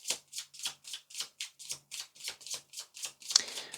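A deck of tarot cards is shuffled by hand in a quiet room, a regular run of about a dozen crisp riffling swishes, close and fairly soft, ending in a rougher scuffle.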